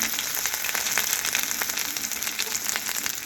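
Spices and ginger paste frying in a hot pan, a steady close crackling sizzle with fine popping throughout, no voices.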